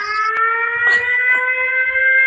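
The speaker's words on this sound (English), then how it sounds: "And I love the siren, by the way." A loud electronic siren blown as a welcome for a guest, steady wailing tones held throughout with a brief burst of other noise partway.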